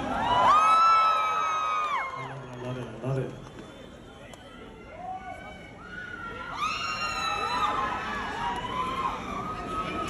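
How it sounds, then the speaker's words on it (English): A crowd at a New Year's Eve concert cheers and whoops, mixed with loud, wailing siren-like tones that rise at the start, fade, then return midway over a steady roar of the audience. "Big round of applause for Mississauga."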